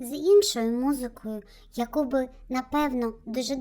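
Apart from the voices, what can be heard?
No everyday noises stand out.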